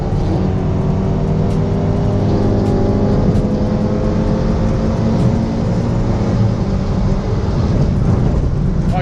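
Turbocharged 260 HP Scion FR-S under steady hard acceleration, a loud continuous engine roar and drone heard from inside the car, with no pause throughout.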